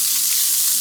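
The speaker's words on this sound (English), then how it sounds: "this is like 2 shallots that I sliced up. We're going to give them a little bit of a saute." Sliced shallots sauté over low heat in an enameled cast iron braiser, giving a short burst of steady, close hissing sizzle with no other sounds.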